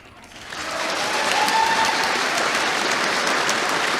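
Audience at a debate featuring Konstantin Kisin bursts into loud applause that swells within half a second and holds as a dense, sustained roar of many hands, with faint voices mixed in.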